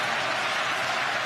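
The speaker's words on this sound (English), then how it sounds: "And the crowd again rally behind Klitschko." A packed boxing arena crowd of about 50,000 at the Esprit Arena roars steadily behind Klitschko during his bout with Fury, a dense, continuous wash of cheering at full volume.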